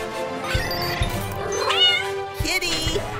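A cat being rescued from up high meows several times in a row, with rising and falling wavering cries, close and clear, along with a few dull thumps.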